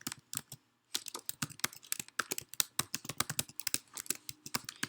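Rapid typing on a computer keyboard while filling out an online form, with dense irregular key clicks close by, a brief pause near the start, then continuous bursts.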